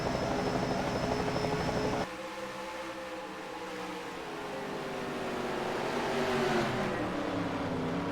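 A helicopter hovering over a NASCAR race at Homestead Speedway in the NR2003 racing game, a steady loud rotor-and-engine drone that shifts in pitch partway through and keeps running under the blended roar of the race cars.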